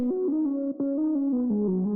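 Synth lead with warm tape saturation on its fundamental, playing a steady stepwise melody of sustained notes, with a brief dip near the middle, alone with no voices.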